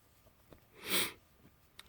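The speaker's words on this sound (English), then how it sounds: "Sorry, I'm sniffling." One breathy sniff from a person in a chilly shed, close and fairly quiet, rising and fading in under half a second against faint background noise.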